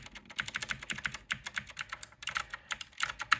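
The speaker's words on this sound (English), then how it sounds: "And it's a clicky keyboard." Fast, continuous typing on a clicky custom keyboard with blue switches, crisp bright key clicks in quick irregular bursts, close and fairly loud, with one brief pause midway.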